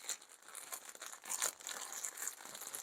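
A thick plastic Temu package is carefully opened, with quiet, continuous crinkling and tearing of the plastic bag at close range.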